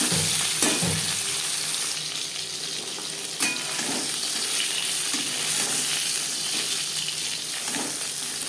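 Pieces of katla fish fry in hot oil in a pan for a tomato curry, a dense continuous sizzle up close with occasional pops and faint clinks, no voices over it.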